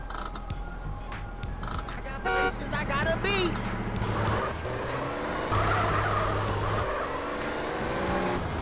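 A car horn sounds in the video game GTA San Andreas, with repeated honks from the player character's car over engine drone and game audio, partly under a speaking voice.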